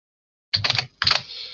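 Short bursts of rapid typing on a computer keyboard, two quick clusters of close, crisp keystrokes separated by a brief pause, in an otherwise quiet room.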